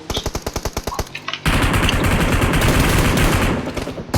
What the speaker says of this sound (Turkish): Köprüden köprüde sağlam çatışıyorlar.